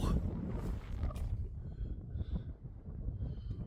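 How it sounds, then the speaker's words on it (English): Wind buffeting at a frozen high mountain camp, a rough low rumble gusting against the microphone, close and fairly loud, with faint voices in the background. "wind is a little bit high here"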